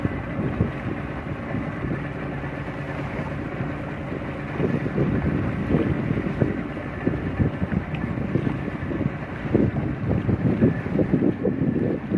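A speedboat with a 40 hp outboard running flat out on open water between Pangkep and Makassar, a loud steady engine roar mixed with wind buffeting and hull slapping on the waves, continuous and close.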